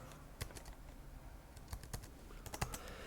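Quiet computer keyboard typing while text is deleted, scattered key presses and short clusters of taps at close range against a low background hum.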